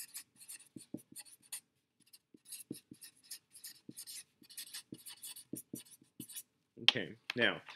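A pencil writes on a sheet of paper, close and dry: short scratchy strokes and light taps come in irregular bursts with brief pauses, ending in a few longer, louder scrapes.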